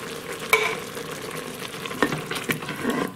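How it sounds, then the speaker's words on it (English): Pasta sauce with pepperoni for Italian ziti sizzling in a pressure cooker pot while being stirred, a close crackling fry with a few sharp scraping stir sounds. "Just adding that moisture into that sizzle."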